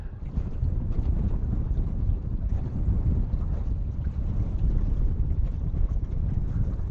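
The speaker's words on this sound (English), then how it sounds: "the wind feels good" Steady, strong wind roars across a microphone on a fishing boat at a reservoir, a constant low rumble with buffeting gusts and no voices.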